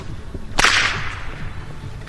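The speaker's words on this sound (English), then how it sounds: "he let me record his whip up close" A street whip cracked up close in Reno gives one sharp, very loud crack that booms briefly and fades, set against faint outdoor background noise, with no talking.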